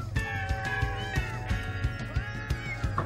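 Domestic cats in a social colony where females share kitten care, meowing repeatedly in a tonal, whining chorus, close and fairly loud, with short thumping knocks underneath.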